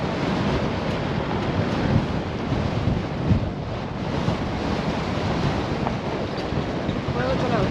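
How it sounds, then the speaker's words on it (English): Strong wind blusters outside near a sea cave, a constant loud roar with buffeting gusts on the microphone and possible surf rumble beneath, no speech. "Alright, so very, very windy outside."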